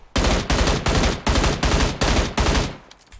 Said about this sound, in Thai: เฮ้ยมีคนยิงกู